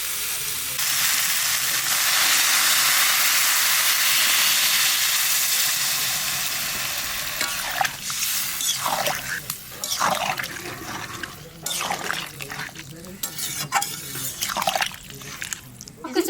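Water poured into a pan of jackfruit and potato frying in spices sets off a loud, rushing hiss lasting several seconds. The hiss then fades into a quieter simmer, broken by clattering stirring sounds.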